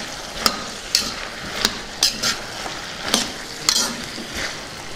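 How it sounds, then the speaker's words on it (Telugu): Eggplant and pea curry frying in a pan, a constant sizzle with a spoon scraping and knocking against the pan in irregular strokes. "ఒకసారి బాగా కలుపుకుందాం"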